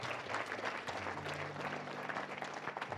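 Audience applause during an evangelist's sermon: a continuous wash of clapping from a crowd, steady and fairly loud, with a faint low tone held underneath.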